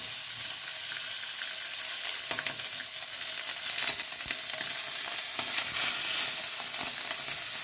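Orata fish frying in a pan alongside potatoes, a steady close sizzle with crackling pops throughout and no talking.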